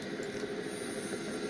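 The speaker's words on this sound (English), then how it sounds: "Is that a helicopter?" A helicopter-like engine drone in The Sims 2 video game, a steady whirring rumble held at a constant level throughout, with no talk over it.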